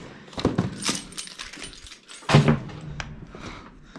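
A bunch of keys jangles in a door lock at close range, with a few metallic rattles and a louder clunk partway through.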